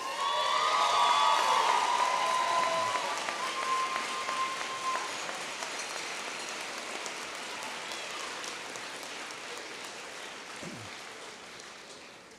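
A crowd applauds the graduating class at the Great Bay Community College 2018 afternoon commencement, a broad hiss of clapping that starts strong and slowly fades.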